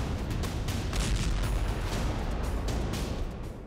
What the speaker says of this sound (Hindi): इसके बाद एक जोरदार धमाका होता है और टैंक तबाह हो जाता है।